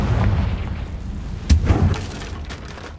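A Confringo explosive spell blast in the video game Hogwarts Legacy hits as one sharp boom partway through, over a steady low rumble of game ambience.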